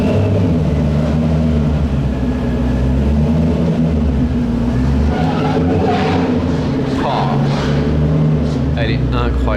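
A Ford GT V8 sports car engine idles and rumbles loudly and steadily throughout, a deep continuous drone close by with some faint higher noises over it.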